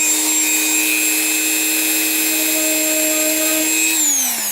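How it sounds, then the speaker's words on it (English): A rotary tool with a buffing tip runs at speed 15 against a latex mask, giving a loud, continuous high whine that holds steady and then drops in pitch as it slows near the end. "I try to do about, 3 or 4 inches at a time, and using the buffing tip"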